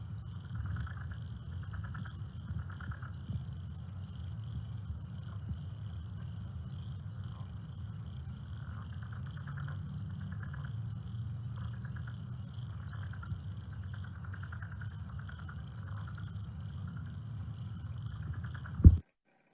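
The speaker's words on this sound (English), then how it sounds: "overwhelming number of cricket-like sounds, and then those southern leopard frogs in the background" Crickets and southern leopard frogs call at a limesink pond, a dense steady high trill over low chuckling croaks repeating throughout, moderately distant, ending with a brief knock.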